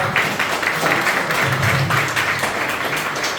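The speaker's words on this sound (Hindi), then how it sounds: "ताली तो अच्छे से बजाओ, खुदावंद के नाम" Audience clapping fills a church-style gathering at an adult literacy training program in West Bengal, a steady, dense patter of many hands that holds at an even level for the whole stretch with no voices on top.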